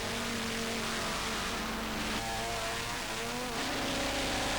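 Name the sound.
blue BMW race car driving past in a 24-hour race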